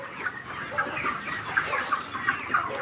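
Chickens cluck steadily in short, overlapping bursts, a busy flock close by with no talking.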